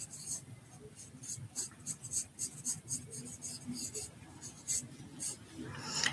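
A Renault 12 Break being sketched on fresh artbook paper, with quick rhythmic scratchy strokes in short bursts, close and fairly soft, with a brief rubbing sweep near the end.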